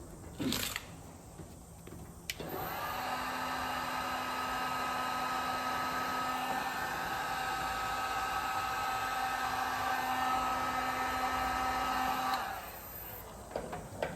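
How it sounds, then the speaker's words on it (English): A heat gun blows steadily for about ten seconds, shrinking heat shrink tubing over a crimped wire during a Crown Victoria swap on a 1959 Ford F100. The hum is even and close, with clicks at the start and end. "slide the heat shrink on it and hit it with the heat gun"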